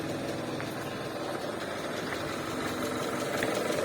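A 1996 Toyota Kijang Super engine with its valves due for adjustment idles steadily, giving a heavy, noisy, continuous rumble with a faint rapid ticking texture at moderate distance.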